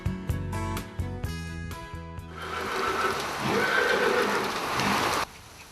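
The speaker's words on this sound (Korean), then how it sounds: "겨울비가 내리는 다음 날." A horse neighs in a run of sharp repeated whinnies before a steady hiss of winter rain takes over on a horse ranch, the rain filling the air for a few seconds and then cutting off abruptly.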